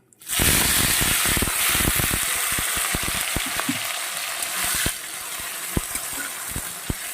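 Onion, tomato and three green chillies hit hot oil over whole cumin and erupt into a loud, dense sizzle that stays steady, eases slightly after a few seconds, and is punctuated by sharp clicks and taps of stirring.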